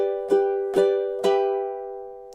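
Three plucked ukulele strums land about half a second apart, each chord ringing clearly with a bright attack and long sustain, a measure from a song played alone and up close.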